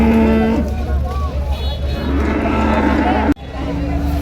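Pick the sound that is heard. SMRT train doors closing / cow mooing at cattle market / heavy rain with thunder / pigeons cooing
cow mooing at cattle market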